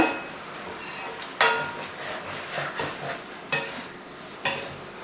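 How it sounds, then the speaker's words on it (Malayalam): Chicken noodles are stirred and fried over a high flame in a home kitchen pan, with steady sizzling and several sharp scrapes and clanks of the utensil against the pan. "നന്നായിട്ട് അതൊന്ന് ഇളക്കി കൊടുക്കുക"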